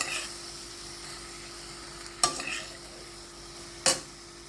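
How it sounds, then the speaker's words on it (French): Shrimp sautéing in a pan, a low steady sizzle with two sharp stirring scrapes standing out, one about halfway through and one near the end, with no talking. "On va les faire revenir un petit moment et ensuite j'incorporerai les légumes, l'aubergine et puis les petits bouts de carottes."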